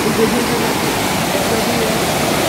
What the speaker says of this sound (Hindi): बड़ा सुंदर सा एक झरना है।